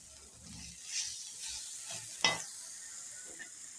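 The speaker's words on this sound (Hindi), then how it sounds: "सबसे पहले हम गोभी डालकर भून लेंगे, ये थोड़ी सख्त होती है।" Cauliflower and carrots are stir-fried in a pan for a vegetable samosa filling: soft, steady sizzling broken by a few scraping stirs of a spoon, quiet and close, with no talking.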